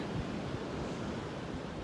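Steady, heavy wind buffeting the microphone, a constant low rushing roar with surf-like noise and no voices.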